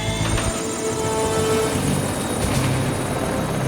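A cartoon helicopter belonging to a character in an animated superhero show drones loudly and continuously, its rotor whir and engine roar filling the whole moment with no talk.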